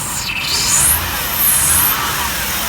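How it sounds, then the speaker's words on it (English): A Honda Civic engine idling with a vacuum leak, giving a steady rough rumble under a thin high whistle that rises and falls twice. "You can hear it. You can hear the vacuum leak."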